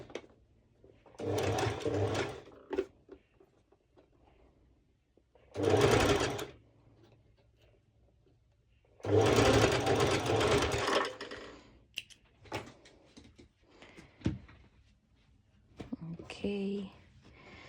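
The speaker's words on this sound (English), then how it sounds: "So I'm practically just doing the basting stitch here for the 2 front and back pieces." A sewing machine runs a basting stitch on activewear shorts front and back pieces, whirring in three loud bursts of a few seconds each, separated by pauses with small clicks and handling noises.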